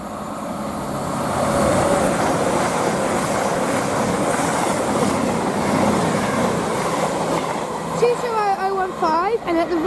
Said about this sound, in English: there's a Bournemouth to Manchester Piccadilly train.